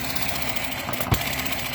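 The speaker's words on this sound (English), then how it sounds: "this engine now, it runs like a sewing machine" A small model engine runs at a steady, even idle, a continuous mechanical hum with one brief thump partway through.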